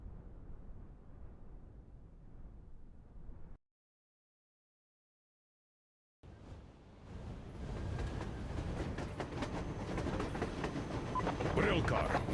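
A rail car running along the tracks in the Metro Exodus video game, a steady low rumble with rhythmic clickety-clack that drops out for a few seconds, then returns louder and fuller, mixed with game sounds.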